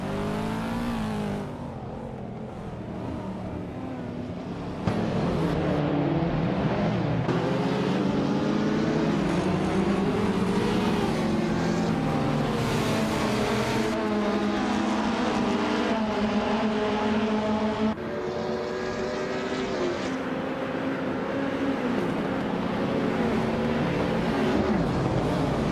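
Race cars roaring through a video game race, engines droning steadily with rising and falling pitch sweeps as they accelerate and shift, loud and continuous throughout with no break.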